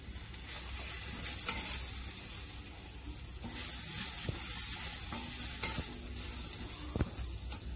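Curry leaves and asafoetida sizzle in hot oil, a soft steady hiss broken by sharp pops and occasional stirring clinks, close but fairly quiet.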